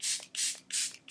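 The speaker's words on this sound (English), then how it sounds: "I'm just going to use my Charlotte Tilbury spray." Charlotte Tilbury setting spray is misted onto a face in three quick, close hissing bursts with short pauses between them.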